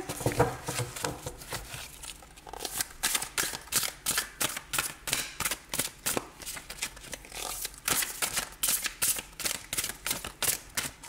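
Tarot cards are shuffled close up in a quick series of rhythmic riffling bursts, each a crisp papery flutter repeating steadily, with no voice over them.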